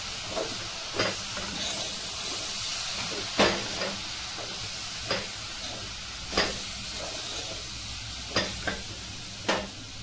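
Roasted semolina being stirred into sugar syrup in a pan, with a steady soft sizzle and hiss broken by repeated scraping strokes of the spoon, close and fairly quiet, no one talking.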